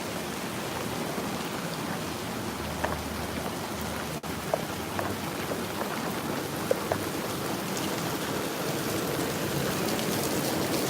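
Steady rain falling continuously in Mongkok, Hong Kong, at night, a dense wash of hiss with occasional louder drips and taps, no voices.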